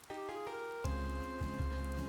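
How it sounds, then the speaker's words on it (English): Steady rain ambience from the Touhou Ace Attorney fan video game Shin Gyakuten Touhou, a soft continuous patter under sustained background music tones that swell partway through. "I like the rain ambience."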